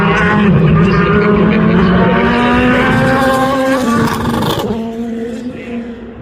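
Race cars at Motul Petit Le Mans roaring past, a loud sustained engine drone whose pitch rises then falls away as the cars pass and the sound fades, with faint talk underneath.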